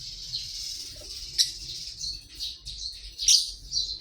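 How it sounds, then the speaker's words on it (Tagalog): Birds chirping among household plants in summer, thin high tweets and calls coming in quick bursts over a soft background, moderately near. "makarinig tayo ng mga huni ng ibon"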